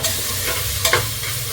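Tomatoes being sautéed with onion, ginger-garlic paste and green chillies for masala macaroni, heard as a close, steady sizzle with a scrape of the spoon stirring near the middle.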